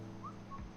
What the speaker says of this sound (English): Codsworth is whistling.